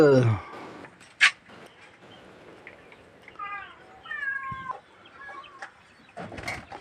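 Cats meow repeatedly while being fed, several short, rising calls clustered in the middle of the stretch, with bird or chicken-like chirps nearby and a sharp knock at the start.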